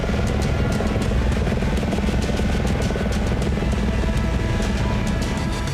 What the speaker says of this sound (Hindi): नेपाल में दर्जनों हेलीकॉप्टर्स को रेस्क्यू के लिए लगाया गया है।